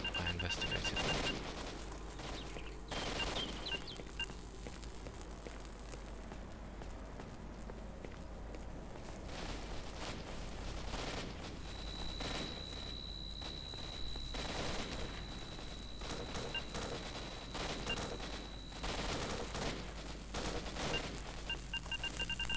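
Scattered gunshots and bursts of automatic fire crackle in S.T.A.L.K.E.R. Shadow of Chernobyl, mixed with footsteps and ambient game noise, fairly faint and irregular over about twenty seconds.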